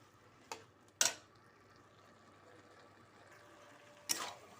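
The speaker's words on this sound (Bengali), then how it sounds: "ভালো করে নেড়ে নেড়ে জলটা আরও শুকনো করে নিচ্ছি।" Carrot halwa is stirred in a pan to dry off the water, giving a few sharp spoon scrapes and knocks against the metal over a faint, low background hiss in an otherwise quiet kitchen.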